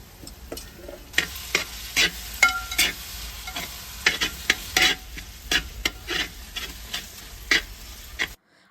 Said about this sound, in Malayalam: ഇപ്പോൾ തക്കാളി ചേർത്ത് എണ്ണ വിട്ട് മസാലയായി വരുന്നത് വരെ നന്നായി വേവിക്കുക.